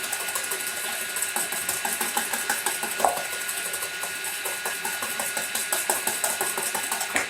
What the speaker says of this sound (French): Donc là, on vient bien fouetter,